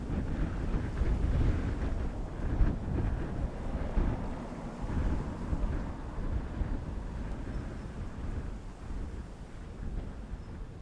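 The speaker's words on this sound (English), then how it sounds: "Breeze has picked up again." Strong, gusty wind buffets a microphone outdoors at Dublin Airport during Storm Floris, a constant broadband roar with low rumbling surges that stays loud throughout, with no voices.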